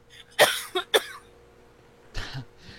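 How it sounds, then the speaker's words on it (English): Several harsh, close coughs come in a quick cluster, then a pause and one more rough cough with throat clearing, loud against a quiet room. "We got a coughing crazy in here."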